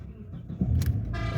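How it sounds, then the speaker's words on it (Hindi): A Toyota Hilux Surf with misfiring and jerking problems cranks and starts nearby, a brief starter whir followed by a close, steady engine rumble that grows louder. "अब हम गाड़ी करते हैं स्टार्ट"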